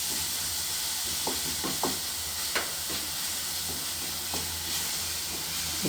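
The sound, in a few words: stirring ginger garlic paste frying in a pan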